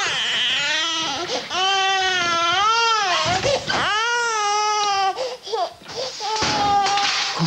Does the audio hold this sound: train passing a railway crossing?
no